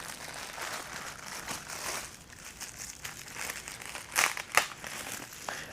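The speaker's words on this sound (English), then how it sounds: "All right, let's undo the tape." Tape being peeled and crinkly wrapping handled while opening a bubble-wrapped package holding cast resin model kit parts, a soft steady rustle with a couple of sharper crackling tears near the end, close by and with no talking.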